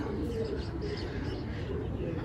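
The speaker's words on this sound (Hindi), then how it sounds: "कबूतर" Soft, low pigeon cooing runs steadily throughout, with a faint rumbling background and no clear pauses.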